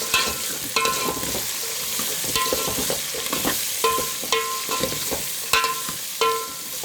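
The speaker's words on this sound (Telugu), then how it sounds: "కొంచెంసేపు ఫ్రై అవనిద్దాం" Tomato and carrot pieces fry in a pan for a drumstick dal rasam, with a spatula scraping and stirring in repeated strokes over a steady close sizzle; no talking.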